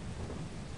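Thunder with rain in the video game Lethal Company, a broad, steady rumble mixed with rainy hiss, filling the brief moment with no voices.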